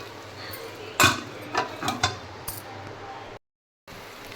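A metal lid set onto a cooking pot of brinjal curry, with a sharp clank followed by a few lighter clinks and rattles at close range over a quiet kitchen background.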